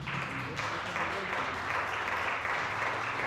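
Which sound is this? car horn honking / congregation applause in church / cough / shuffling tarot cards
congregation applause in church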